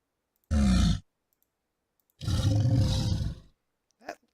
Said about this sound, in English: I mean, sounds vaguely like a tiger.